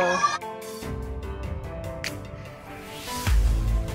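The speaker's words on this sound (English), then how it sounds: "It's the chicken." A chicken clucks in short, repeated calls at close range, mixed with talking and other household noise.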